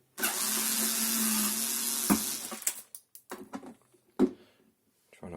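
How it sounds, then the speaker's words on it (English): Torx T5 screws are backed out of a Bosch dishwasher control panel with a power driver, which whirs steadily for about two seconds, followed by sharp clicks and small handling knocks close by. "So just start by removing these screws. They are a torx, I think a T5 bit."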